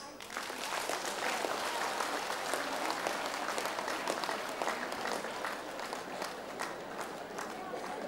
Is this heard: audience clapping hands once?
yes